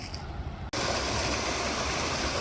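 Rushing water of a mighty stream, a loud, steady roar that starts abruptly after a brief quieter moment and continues unbroken.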